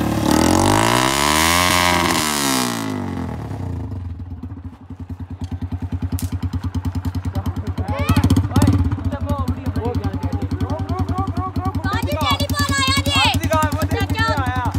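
Heavy motorcycle engine starting and revving at a crowded Basant kite festival in Islamabad, a strong rhythmic engine throb running throughout, rising in bursts, with people shouting over it.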